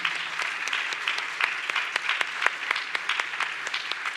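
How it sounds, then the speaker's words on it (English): Audience at an Amway business talk applauds, a moderate, fairly distant wash of clapping with sharper individual claps standing out, continuing steadily. "Give a big round of applause to Amway."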